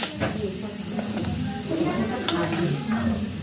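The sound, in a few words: chicken frying with Kashmiri chili powder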